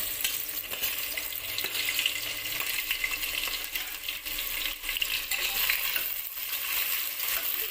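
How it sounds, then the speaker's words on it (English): Onion fries with whole spices in a hot mix of oil and ghee, producing a dense, continuous crackling sizzle close by with faint stirring clinks and no talking. "fry the onion till it's slightly golden brown"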